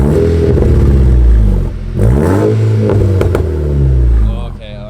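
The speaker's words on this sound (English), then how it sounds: "Here's some couple revs of the resonator." A Mk6 GTI with a catless exhaust and a resonator installed revs loudly several times in quick climbing sweeps, close up, with voices talking over the engine.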